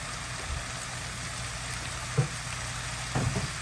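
Pineapple Cornish hens sizzle in a pan on the stove, a steady frying hiss broken by a couple of soft pops.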